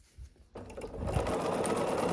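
A sewing machine stitches quilt block pieces together, starting after a brief quiet moment and then running in a fast, steady, close-up whir.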